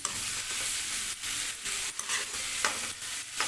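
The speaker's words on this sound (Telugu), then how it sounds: "ఒకసారి కలుపుకొని మూత పెట్టుకొని ఉల్లిగడ్డను అయితే సన్నని మంట మీద అయితే మగ్గనిద్దాం" Onions frying in a pan over a low flame for a tripe fry, stirred with several scraping strokes over a steady sizzle, close and moderately loud, no talk.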